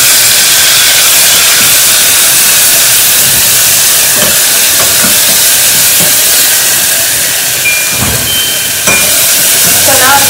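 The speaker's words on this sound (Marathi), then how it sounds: "तर आता इथे मी तेलामध्ये मसाला टाकून घेते." Masala spices dropped into hot oil give off a loud, continuous, close hiss and sizzle that holds steady for about ten seconds with no talking.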